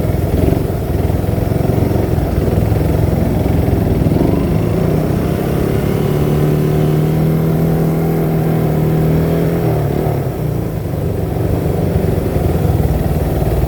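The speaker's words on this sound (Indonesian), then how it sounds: "Sudah macet banget teman-teman, apalagi nanti jam 4 jam 5 parah di sini macet itu." Heavy traffic jam on a Jakarta street near Tanah Abang market: a loud, unbroken wall of car and motorbike engines idling and revving close by, with no voices.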